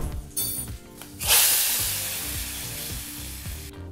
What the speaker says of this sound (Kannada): ಈಗ ಸಿದ್ಧವಾಗಿರ್ತಕ್ಕಂಥ ಈ ಒಗ್ಗರಣೆಯನ್ನು ಸಾರಿಗೆ ಹಾಕ್ಕೊಳ್ಳೋಣ.